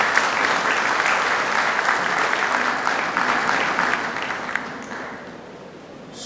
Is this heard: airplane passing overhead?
no